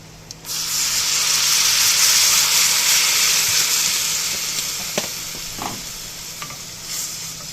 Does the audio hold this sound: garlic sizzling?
yes